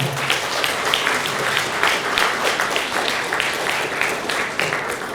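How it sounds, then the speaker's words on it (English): An event audience claps together in dense, steady applause that stays loud throughout, with many hands blending into a continuous wash. "Now a wide round of applause and thanks to all the participants who made this event a memorable one."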